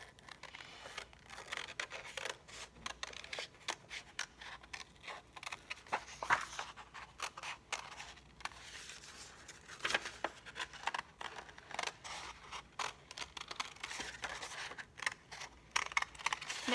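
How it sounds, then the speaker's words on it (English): Scissors cutting out an organic paper shape, quiet irregular snips and rustling paper in close, uneven bursts over a long stretch with no talk. "then I'm going to take my scissors"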